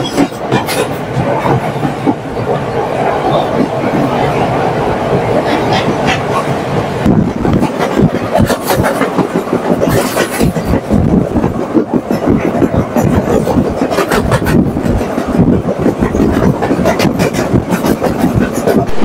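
A night mail express train travelling toward Colombo rumbles loudly on its rails, with a constant heavy roar and repeated clickety-clack beats from the wheels passing over track joints, heard from inside the moving train.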